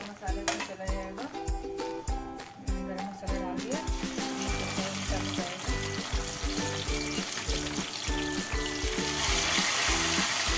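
Ground masala and garam masala fry in oil in a kadhai, a continuous sizzling hiss heard under a voice and tonal background sound.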